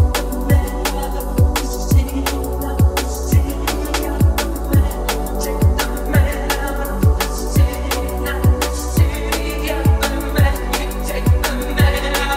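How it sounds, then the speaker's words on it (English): A liquid drum and bass remix section plays with automated delay, carrying a steady beat of punchy kicks and snappy hits whose echoes repeat through a sustained synth bed. "I've automated the delay on that final bit just before the final drop"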